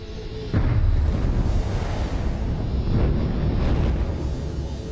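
A supernova explosion sound effect kicks in after half a second as a deep, loud, rumbling roar that holds steady and swells slightly near the end, with no speech.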